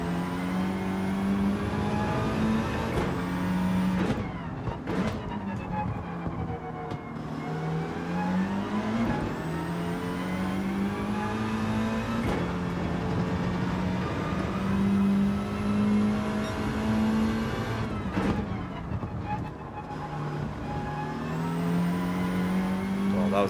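Race cars in Gran Turismo 7 rev and accelerate through the gears, a continuous engine drone rising in pitch repeatedly, with shifts between pulls and other cars passing.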